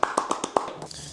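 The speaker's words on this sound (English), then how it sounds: "Everybody clap it up for Samuel." Hand clapping: five or six sharp, fairly close claps in quick succession, tapering off into a faint softer clap near the end, with no voices.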